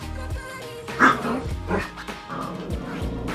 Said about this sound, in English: This bitch always wanna growl.